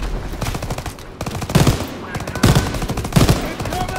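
Machine gun fire in a Call of Duty WW2 D-Day beach battle: loud rapid bursts of automatic gunfire in several volleys, with heavy impacts and battle noise around them.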